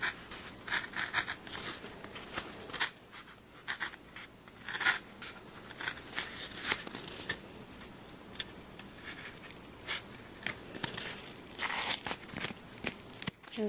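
An X-Acto knife cuts material by hand in steady scratchy strokes, with papery scraping and crinkling close up and no voice.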